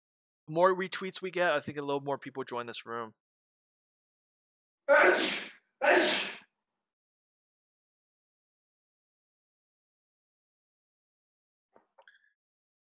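Two sharp sneezes in quick succession follow a stretch of someone talking, then near silence with a faint click at the end.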